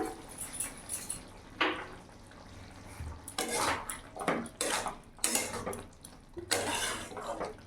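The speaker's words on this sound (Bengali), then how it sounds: "ভালো করে নাড়াচাড়া করে নিলাম" Soybean curry is stirred in a pan with a ladle, giving irregular bursts of scraping and clanking against the metal that grow busier toward the end, close and moderately quiet.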